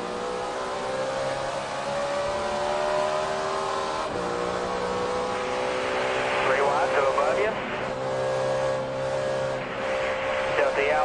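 Onboard ride in Jeff Gordon's Chevrolet NASCAR race car at Las Vegas in 2008, the engine droning and shifting pitch steadily close to the camera, with commentators talking over it throughout.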